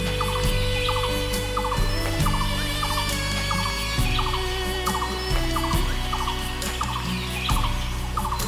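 Repeated loud, honking gobble-like calls of a green peafowl ring out in series over a busy chorus of other birds, close and clear.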